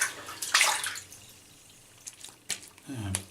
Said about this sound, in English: Just rinsing my face with cold water now.